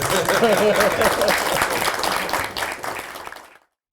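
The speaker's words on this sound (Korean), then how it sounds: "저도 박수 한번 쳐주세요" Applause in the South Korean National Assembly at a presidential address, a dense wash of clapping that carries on steadily under a speaking voice before cutting off abruptly near the end.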